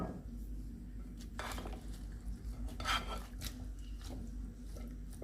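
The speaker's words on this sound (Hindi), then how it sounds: "अब इसके ऊपर हम सैलेड की ड्रेसिंग को डाल के अच्छे से मिक्स करेंगे" Greek salad with black-eyed beans and cheese being mixed with dressing in a dish, soft scraping and clinks of utensils against the bowl in scattered strokes over a low steady hum, close and fairly faint.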